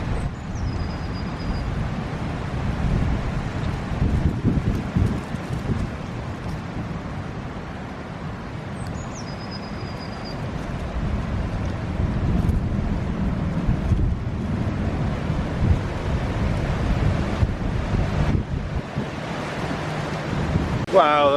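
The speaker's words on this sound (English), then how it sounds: "Wow, the wind has picked up." Strong outdoor wind blowing steadily, with broadband rumbling gusts buffeting the microphone throughout, loud and continuous with no speech over it.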